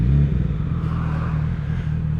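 A 2018 Yamaha R6 sport motorcycle engine fires up in neutral with a loud burst, then settles into a steady, rumbling idle close by.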